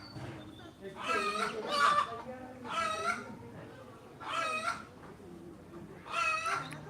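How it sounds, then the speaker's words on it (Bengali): A hen calls out in a series of loud, drawn-out squawks, about five bursts with short pauses, close by with faint clucking between. "এই যে এই মুরগিটা চিল দিতেছে"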